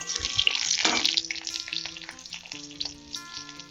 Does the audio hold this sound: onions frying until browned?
yes